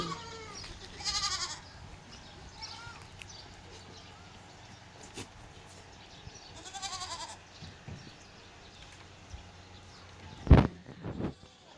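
Goats bleat intermittently on a large dairy goat farm, with a few wavering calls rising over steady background hum and one sharp louder thump near the end.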